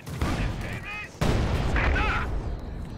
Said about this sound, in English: Su-76 with its terrible barrage going in